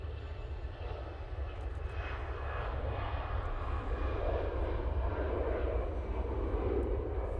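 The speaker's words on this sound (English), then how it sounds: "this EasyJet is now on the roll." An EasyJet airliner rolls down the runway for takeoff at Manchester Airport, a steady distant jet engine roar with broadband rumble that builds slightly, heard alone for several seconds.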